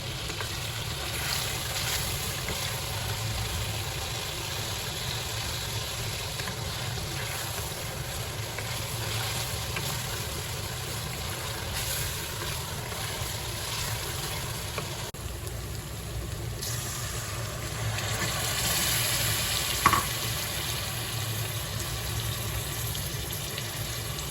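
Kofta curry frying in a pan gives a steady, loud sizzle that runs unbroken throughout, with water poured in briefly shifting the hiss partway through; no one speaks.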